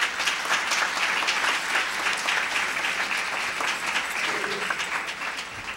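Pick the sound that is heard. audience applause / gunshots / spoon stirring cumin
audience applause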